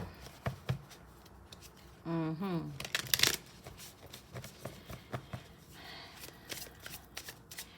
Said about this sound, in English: Let's draw your tarot cards for this month's reading.